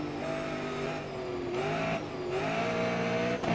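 Race car in Grid Autosport revs and accelerates hard through rising gear pulls, loud and close, with a brief tire squeal and no voices.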